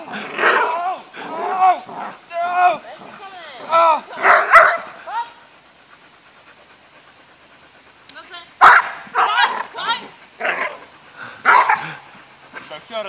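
A dog yaps and barks in several short bursts, close and fairly loud, with a pause in the middle before more barking; people talk around it.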